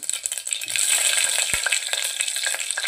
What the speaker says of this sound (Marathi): तेल छान गरम झाले। आता यामध्ये आपण मोहरी ॲड करूया, सोबतच तेजपत्त्याची 2 पानं,